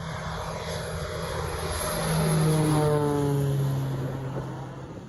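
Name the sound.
Kodiak turboprop aircraft engine during takeoff throttle-up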